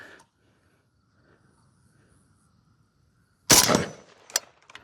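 A single loud Galil rifle shot fired at a target 70 yards away outdoors, a sharp crack with a ringing tail and a faint echo, following near-silence with faint insects in the background.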